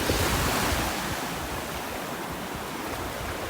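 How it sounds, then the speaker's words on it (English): Ocean surf rolls onto a beach in North Naples, Florida, a steady close wash of breaking waves with a slight swell near the start, alone with no voices. "you can actually see the shells rolling in and out with the waves"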